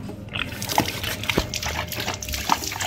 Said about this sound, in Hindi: तो देखो गाइस कैसे पानी पीता है, कमेंट करके बताना कि आपका डॉग कैसे पानी पीता है।